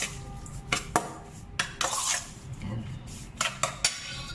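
Bulgogi marinade with a tablespoon of sugar being stirred, a spoon clinking and scraping against the bowl in short bursts under a soft spoken word and faint kitchen background.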